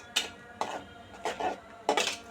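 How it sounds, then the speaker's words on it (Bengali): A spoon scrapes and knocks through taro root and prawn curry being stirred and sautéed in a pan, four close, rhythmic strokes spaced about half a second apart. "আমি নেড়ে নেড়ে তরকারিটা কষিয়ে নেব"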